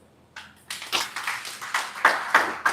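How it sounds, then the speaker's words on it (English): A live audience claps hands at a wellness business event, a run of separate crisp claps in a slow, uneven rhythm, fairly close and moderately loud, with no voices over them. "Let's give OQATA a big hand clap."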